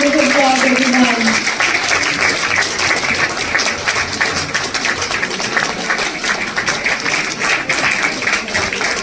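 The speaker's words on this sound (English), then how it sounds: "Can we have a big round of applause," Loud, sustained applause from an audience at a book launch during the New Delhi World Book Fair, dense and close, with a voice briefly audible at the start over the clapping.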